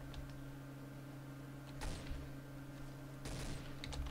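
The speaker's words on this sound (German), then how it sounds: "Hör doch auf mich zu schießen, ich bin's nicht." Gunfire in the video game Trouble in Terrorist Town comes in two quick, faint bursts of rapid shots over a low, steady background hum.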